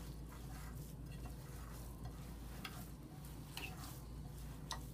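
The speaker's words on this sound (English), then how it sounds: "Get all that cheese and breadcrumbs mixed in there" Meatball mixture being worked together with cheese, breadcrumbs and eggs, a steady wet squelching and stirring texture with occasional soft clicks, close up and continuous with no talking.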